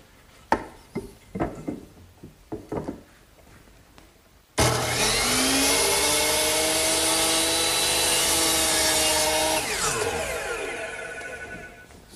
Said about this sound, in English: I'm going to use my power miter box to make that cut